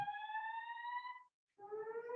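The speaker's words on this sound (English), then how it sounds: "the alarm just went off in my building" A building fire alarm sounds in two loud, steady electronic tones, cutting out briefly before the second one, with no voices.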